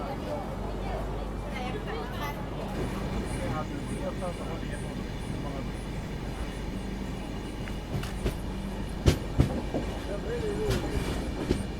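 The 16315 Mysuru–Thiruvananthapuram passenger train rumbles steadily with a continuous broadband roar, sharper clacks and rattles rising near the end, while people talk over it.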